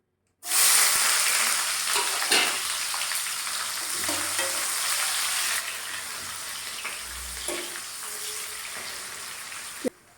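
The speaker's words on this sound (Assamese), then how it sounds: "এতিয়া মই পিঁয়াজখিনি প্ৰথমতে ভাজি ল'ম।" Two onions cut into large chunks fry in hot oil in a pan, a loud, steady sizzle that runs without a break from just after the start until it stops abruptly near the end, with a few faint clinks along the way.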